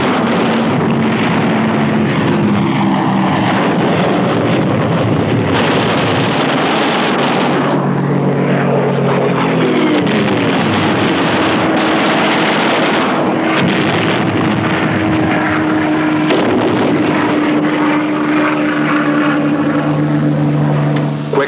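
World War II fighter planes dive to strafe enemy airdromes, with a loud, continuous engine roar and rushing wind that swells and shifts across the run, and no voices.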